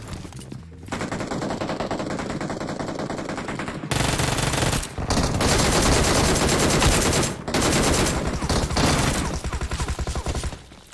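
Uzi fire in PUBG Mobile rattles out as long, dense automatic bursts, loud and close, with brief pauses between strings of rapid shots.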